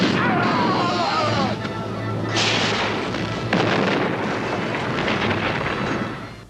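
Phaser fire and a blast as an approaching Klingon vessel is destroyed in a Star Trek fan production, loud crashing booms and bursts layered over a rumbling, continuous din that fades at the end.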